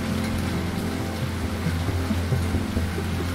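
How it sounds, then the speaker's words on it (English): Heavy pouring rain in the Lorelai video game, a steady dense wash of drops with low rumbling beneath, constant and close throughout with no voices. "Even this pouring rain is trying to warn me."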